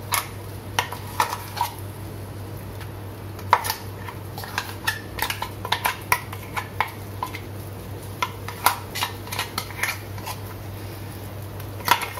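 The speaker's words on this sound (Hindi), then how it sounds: "ये मसाले हमारे भून गए हैं, अब हम इसमें डाल देते हैं ये दाल की पेस्ट।" Lentil paste is added to roasted spices in a cooking pan for a stuffed paratha, with repeated metallic scrapes and clinks of a utensil against the pan over a quiet, steady background hum.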